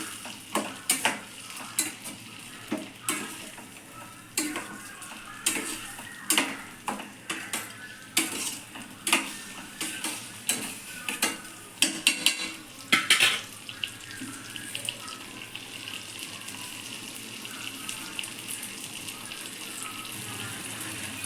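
Tomatoes and coriander stirred into an egg curry masala in a pan: repeated close scraping and clacking strokes at a steady rhythm for most of the stretch, then a softer bubbling sizzle as the stirring stops.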